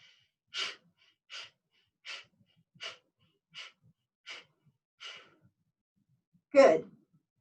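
Rhythmic pumping breaths during a dynamic breathing exercise: seven evenly spaced, forceful breath bursts about a second apart, then a longer, heavier exhale, close and clear against silence.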